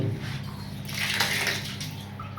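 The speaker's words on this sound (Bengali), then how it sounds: "এটা হচ্ছে গরম জলের কল" A hot water tap runs in a hotel bathroom during bitter winter cold in Madhuban, Jharkhand, giving a steady close rush of water that swells louder midway and then eases, with no talking.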